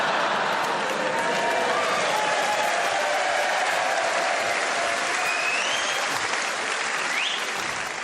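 Sustained audience applause fills the stretch at a steady, dense level, many hands clapping together from a live studio crowd at a British sitcom recording, with no talk over it.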